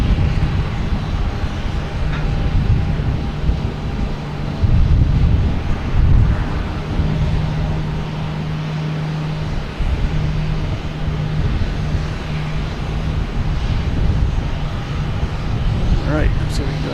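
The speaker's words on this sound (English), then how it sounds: "Get Southwest here, heading to Austin, 737 MAX 8," A Southwest Boeing 737 MAX 8 at Boston Logan gives off a loud, broad jet roar with wind buffeting the microphone, while a person talks over it throughout.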